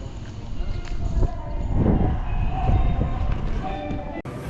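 Kintetsu Shimakaze limited express train running in Japan, a loud continuous low rumble and rolling rail noise, with a few brief tonal squeals over the run and a sharp transient near the end.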